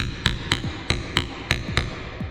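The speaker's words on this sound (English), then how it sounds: "I got my 3/8 inch chisel, and I'm going to kind of go gently" A hammer taps a 3/8 inch chisel to mark out a mortise in wood, giving seven evenly spaced, moderately loud metallic knocks in a steady rhythm, close up and alone.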